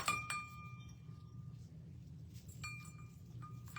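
Small bells on a flocked Christmas swag clink and ring in a few light, bright bursts, close by and fairly faint over a low background hum.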